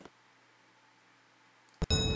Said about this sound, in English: Oh wait, I have to close the door.